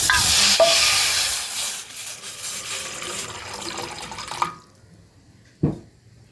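Water pours into a pot on the stove for gulab jamun sugar syrup, a loud close rushing stream that fades and stops, followed by a single knock in near silence.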